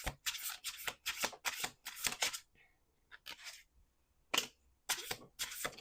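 Playing cards being shuffled in a series of crisp riffle bursts, several quick rattling runs separated by short pauses, close and clear with no voices.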